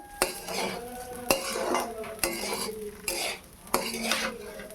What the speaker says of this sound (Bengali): এই চালটাকে কিন্তু ভালো করে ভাজতে হবে